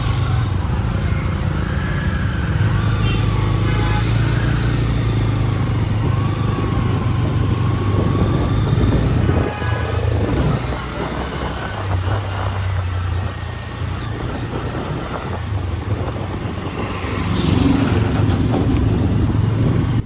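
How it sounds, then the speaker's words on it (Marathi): Traffic of cars and motorcycles in Kadav market: steady, close engine drone and idling with passing vehicles, some motorcycle revs, and brief swells and dips as the vehicles move past. "गाड्या मोठाले होतं ट्रॉफिक लागते मित्रांनो."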